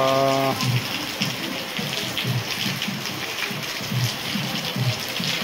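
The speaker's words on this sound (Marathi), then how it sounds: "पाऊस पण चालू आहे बाबा." Monsoon rain falls in the Konkan countryside, a dense, steady hiss of drops with soft rhythmic patters underneath and a short tonal sound at the start.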